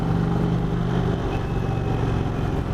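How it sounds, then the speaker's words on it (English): Close, steady idle of an Indian Chief Vintage motorcycle, a low rumbling throb with light mechanical ticking, continuous and unbroken with no speech. "Not very much vibration through this motorcycle either."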